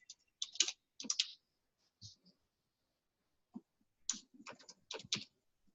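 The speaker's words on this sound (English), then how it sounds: "Let me click on Port of Spain." Sharp clicks on a computer keyboard or mouse while working in route optimization software, arriving in small irregular clusters with pauses between them, close and fairly quiet.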